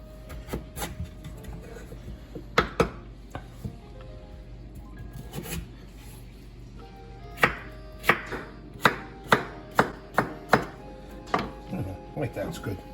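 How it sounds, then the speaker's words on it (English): Peeled potatoes sliced thin with a knife on a board, sharp close chops in scattered bursts, then a quicker run of evenly spaced cuts, with quiet pauses between. "we're going to cut our potatoes. You want to cut them pretty thin"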